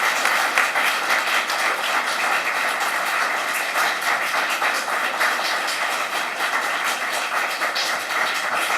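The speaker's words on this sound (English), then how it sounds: "Now let's give all of our candidates a round of applause." A forum audience gives a sustained round of applause for primary election candidates, dense and even clapping at a steady level throughout with no talk over it.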